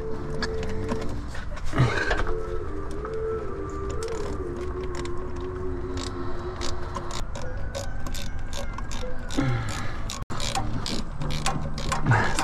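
A ratchet loosens a bolt on a 2004 Chevy Astro Van, giving a steady train of close metallic clicks with a squeaky whining tone underneath and a sharp knock near the end.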